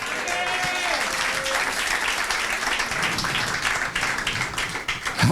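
A church congregation at a Sunday service breaks into sustained loud applause and cheering, dense clapping filling the room with voices shouting over it.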